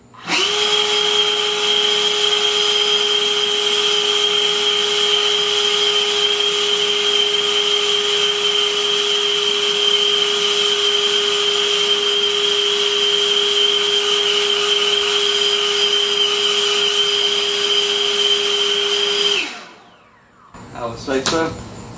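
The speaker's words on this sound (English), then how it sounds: "see if we can use the EGO blower to create enough vacuum to possibly use this to make your own" An EGO 56V battery leaf blower rigged as a shop vacuum gives a loud, steady motor whine with a high airy roar for a long stretch, then cuts off and winds down near the end.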